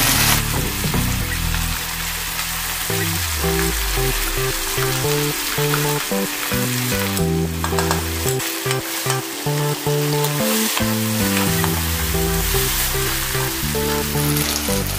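Steady, loud sizzling and frying as ground spice paste cooks in a pan, with crackling bursts and stirring scrapes over the hiss.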